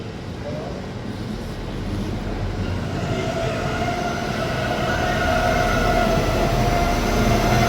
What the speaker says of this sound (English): Here we are, train is here.